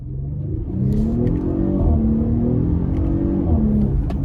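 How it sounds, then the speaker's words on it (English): A 2023 Audi SQ5 3.0T Quattro Premium Plus launches hard from a standstill, heard from inside the cabin. The engine rises to a loud, sustained rumbling roar that climbs through the gears for several seconds. "that thing is so quick off the line"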